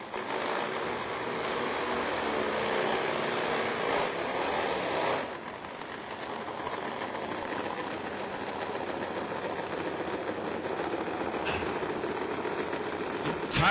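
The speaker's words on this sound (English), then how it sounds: "Nothing sounds like nitro. Nitro Harleys in the Pro Fuel class" Nitro-fueled Harley drag racing motorcycles in the Pro Fuel class roar loud and continuous, a dense, unbroken blast that dips slightly partway through and then holds steady.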